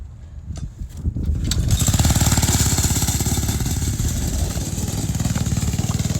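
A Honda 160 pressure washer engine revs up to full throttle, a loud, steady, rapidly pulsing roar after a brief rough start, close by and alone.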